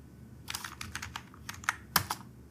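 Quick, light clicks of typing code on a computer keyboard, a close, irregular run of keystrokes with short pauses and one sharper tap near the end.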